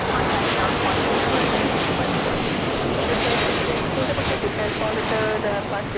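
A jet airliner climbs out from LAX into the low marine-layer clouds, its engines a loud, steady broadband roar that fills the whole stretch without letup; a voice speaks briefly over the noise.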